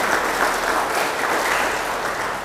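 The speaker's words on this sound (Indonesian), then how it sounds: "berikan sorak-sorai buat Tuhan." A church congregation at an evangelistic revival service in Taman Kencana, West Jakarta, applauds and cheers for God, a dense, steady wash of clapping and voices sustained throughout, loud and close, with no speech over it.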